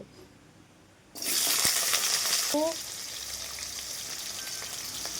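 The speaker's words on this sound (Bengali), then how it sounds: "রান্নাটা আমি সাদা তেলেই করব গুলোকে ভেজে নেব প্রথমে আলুগুলো ভেজে নেব" Potatoes dropped into hot white oil in a wok burst into loud, sudden sizzling partway through, then settle into a steady, slightly quieter frying hiss with a few faint clinks.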